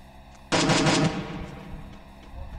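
Gunfire in a video game during a Liga BDM final esports broadcast: a sudden loud burst of rapid shots lasting about half a second, followed by a long echoing tail that slowly fades.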